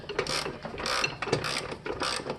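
A hand ratchet snugs the trailing arm bushing bolts on a BMW E46 in several short bursts of rapid clicking, close and fairly loud, with no one speaking.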